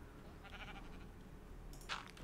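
Sheep bleating in the Minecraft video game, a short bright cry near the end of the clip over a steady low background hum, with no talking.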